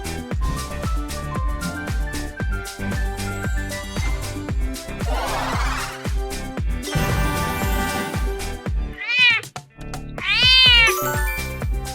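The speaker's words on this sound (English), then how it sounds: "It's a cat." A domestic cat meows several times, the calls rising and falling in pitch, set among busy music with rhythmic percussive hits and sweeping tones in a kids' animal-guessing game.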